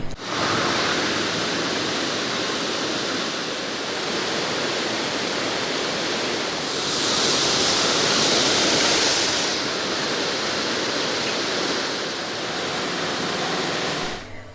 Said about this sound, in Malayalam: ഒരാഴ്ചയായി തുടരുന്ന കാലവർഷത്തെ തുടർന്നാണ് പുഴയിൽ വെള്ളം കവിഞ്ഞൊഴുകുന്നത്